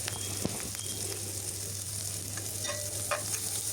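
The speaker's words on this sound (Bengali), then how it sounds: "আদা রসুনের পেস্ট দিয়ে একটু নাড়াচাড়া করে ভেজে নিচ্ছি" Ginger garlic paste is stir-fried with onion and chilli in a pan, giving a continuous close sizzle with soft scraping stirs over a low steady hum, with no talking.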